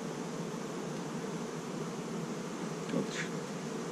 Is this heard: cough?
no